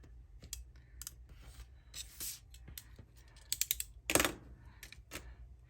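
A craft knife drawn along a ruler through board for a folio binding project, giving a series of short, close scraping cuts and clicks with brief pauses between strokes, fairly quiet and without voices.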